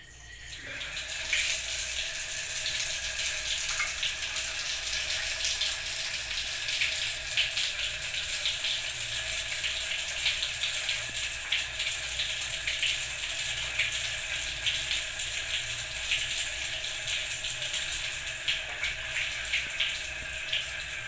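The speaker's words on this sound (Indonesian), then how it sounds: "Sebelum melakukan tindakan, saya akan melakukan cuci tangan terlebih dahulu" Hands are washed under a steadily running tap before a physical examination of a newborn, with continuous water rushing and splashing into a sink at close range for about twenty seconds.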